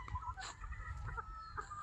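Young pullet chickens in a ranging area cluck softly, with a few short, faint calls overlapping at a distance and low background noise.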